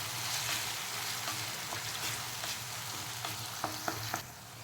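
Green chillies go into a hot pan of onion and tomato for a green chickpea curry, giving a steady sizzle and frying hiss with a few sharper crackles and pops near the end, close and continuous.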